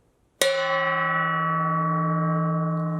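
A lion dance gong is struck once in the middle and left unmuffled, giving a single loud, bright crash that rings on with a long, shimmering sustain.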